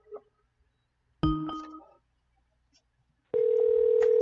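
A Skype call: an electronic chime sounds once, fades, and then a steady tonal ring begins and holds, clean and close, with near silence between.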